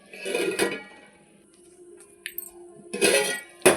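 A lid goes back onto a pot of brinjal and fenugreek (vankaya methi) curry, making a few soft metallic clinks and a brief clatter, with a sharper knock right at the end.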